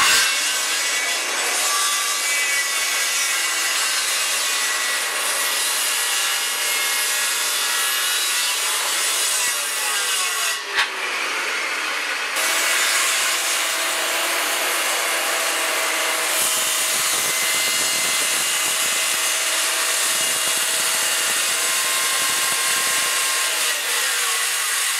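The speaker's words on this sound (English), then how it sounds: "these straight lines I'm going to do with a circular saw" A circular saw rips straight cuts through wood in a workshop, a loud, continuous whining roar that holds steady for the whole stretch with slight shifts in pitch as the blade bites.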